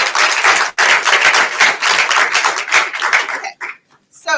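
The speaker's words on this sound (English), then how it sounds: "Please give him another round of applause." An audience at a genealogy lunch-and-learn session applauds a speaker, a loud, dense burst of many hands clapping that thins out and stops within a few seconds.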